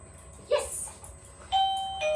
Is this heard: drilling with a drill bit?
no